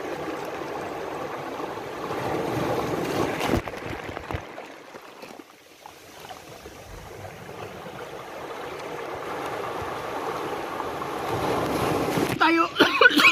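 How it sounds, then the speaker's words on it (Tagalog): Strong sea waves at Matnog, Sorsogon roar as a broad, continuous wash of surf, heavy with wind buffeting the microphone, swelling and easing over time with a few sharp knocks near the end. "Lakas ng alon."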